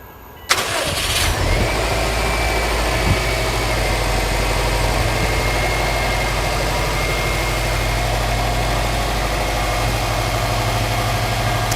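A 2004 Subaru WRX STI in Java Black Pearl with 66k miles cranks briefly and fires up, then settles into a steady, loud idle with a deep, even exhaust rumble for over ten seconds.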